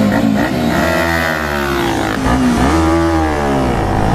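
Bajaj Pulsar RS 200 and KTM RC 200 motorcycles scream through a drag race launch, loud close engine notes rising through the gears with sharp shifts, no voices.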